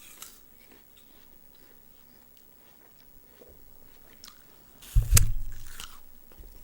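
A bite into a crisp apple with pale white flesh, a sharp crunch near 5 seconds followed by brief chewing, close and loud against quiet room tone.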